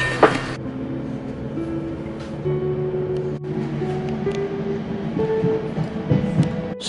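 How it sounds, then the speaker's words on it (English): A train rumbles past close by with steady tonal hums and a rising rattle of wheels, a brief horn-like tone at the start. "Now to get a train and go home."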